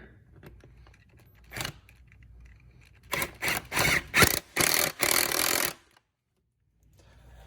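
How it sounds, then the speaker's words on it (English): A hose clamp on the air filter of a Fiat 124 Spider Abarth intake system is tightened with a 7mm tool, giving a lone click followed by a quick run of sharp ratcheting bursts up close, then quiet. "we can now tighten this last clamp to the air filter"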